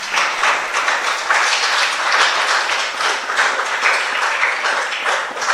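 A church congregation claps together during a Spanish-language sermon, producing steady, dense applause that holds at an even volume for the whole stretch, with no voice on top.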